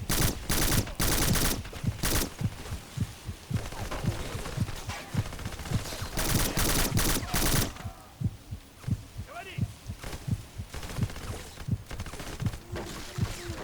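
Gunfire in the shooter video game Black rattles off in rapid bursts and fusillades, loud and dense at first, then sparser, punchy shots continuing over a low background hum.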